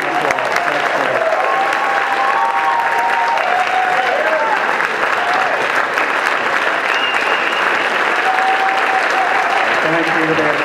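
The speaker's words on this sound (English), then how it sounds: "let's give them all another round of applause" An audience at a Martin Luther King Jr. breakfast event applauds steadily for about ten seconds, a dense, loud wash of clapping with some cheering mixed in.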